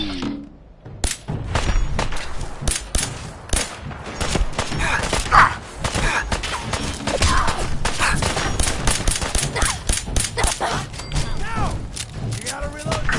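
Rapid, near-continuous gunfire in the video game Fallout, volleys of shots and thuds running throughout, with voices talking over the shooting.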